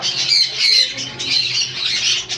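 Double red factor hyper sun conures and other conure parrots squawk loudly and close by, shrill harsh calls overlapping almost without pause.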